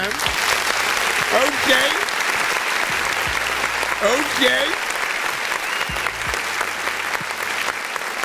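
Crowd applause for an underground music artist during a live music review stream, continuous clapping with a voice talking over it at times and a brief spoken word.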